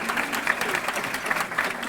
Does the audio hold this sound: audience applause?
yes